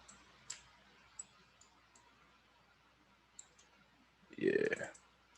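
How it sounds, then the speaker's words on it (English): Sharp, isolated computer mouse button clicks, a few spaced apart over a quiet room background while modeling a bottle in Cinema 4D, followed by a louder burst near the end. "Little mouse button click."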